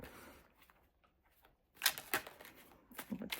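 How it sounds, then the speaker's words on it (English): A deck of tarot cards is shuffled at close range, with quiet shuffling and then several sharp papery riffles and flicks in uneven bursts. "I'm going to give this a shuffle."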